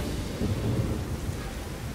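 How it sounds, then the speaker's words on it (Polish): A low rolling rumble of thunder over a steady wash of rain, continuous and fairly full, from a thunderstorm in the video game The Witcher 3: Wild Hunt. "taka ładna burza to już mi się od dawna nie udała"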